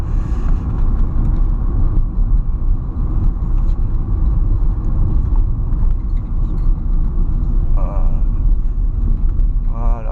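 A 2002 Volkswagen New Beetle 1.4i 16v with 75 hp drives steadily along a road at moderate speed. Its engine and the road noise form a constant, loud low rumble with no break, and a voice can be heard over it.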